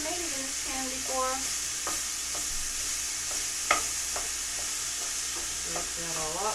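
Ground meat for skillet lasagna sizzling in a pan while a spatula scrapes and breaks it up, with repeated clicking scrapes over a steady background hiss at moderate level and no talk.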